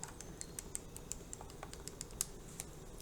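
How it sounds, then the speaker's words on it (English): Fingers tap the keys of a calculator in a quick, uneven series of light clicks, close and fairly quiet, with no talking. "Save me some stuff typing in the calculator."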